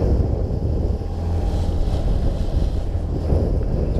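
A Honda outboard motor drives a small boat at a steady, unhurried speed on the River Deben, giving a constant low rumble that blends with wind buffeting the microphone, close and continuous with no voices.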